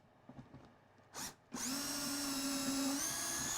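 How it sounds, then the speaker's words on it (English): A power drill bores a hole while a Kreg K5 jig is mounted using a PARF Guide Mk2. After a few faint taps and a short burst, the motor whines loudly and steadily, its pitch stepping up near the end. "And drill the hole."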